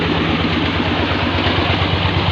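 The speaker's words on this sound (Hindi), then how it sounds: "इंजन चला रहा है इस ट्यूबवेल को" A diesel-type engine driving a farm tubewell pump runs steadily at close range, a loud low throbbing drone with a regular pulsing beat and no pauses or talk.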